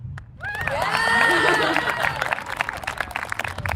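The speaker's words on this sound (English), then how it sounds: "Clap." An audience at a high school graduation breaks into clapping and cheering, a swelling wash of applause with a few shouts that begins after a brief quiet moment.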